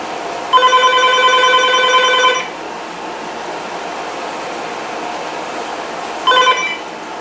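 A Uniden EXA915 telephone rings on an incoming call with a loud, close electronic trill of nearly two seconds, then a pause under a steady fan-like background hum, then the start of a second ring.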